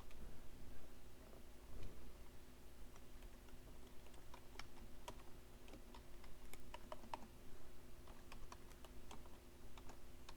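Keys tapping on a computer keyboard in irregular quick bursts, near and steady over a low constant hum, with no one talking.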